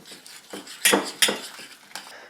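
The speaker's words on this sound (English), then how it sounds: "and then go ahead and mix this up" A spoon mixes a homemade garlic mustard spread seasoned with celery seed, dill and paprika in a bowl, giving a few close scrapes and two sharper clinks against the dish.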